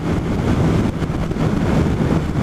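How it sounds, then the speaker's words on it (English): Strong crosswind buffets a motorbike rider's helmet-mounted camera microphone, a loud, continuous low rumbling roar with no break across the whole stretch. "Oh, the wind here is terrible."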